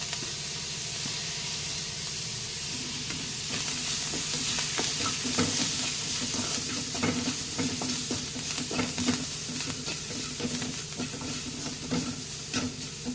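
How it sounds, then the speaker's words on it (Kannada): Grated coconut and coriander leaves frying in a hot oil tempering for temple-style kara pongal, a steady close sizzle with repeated scraping stir strokes that grow busier after the first few seconds, no talking. "ತೆಂಗಿನಕಾಯಿ ತುರಿ ಹಾಕಿ ಫ್ರೈ ಮಾಡಿ."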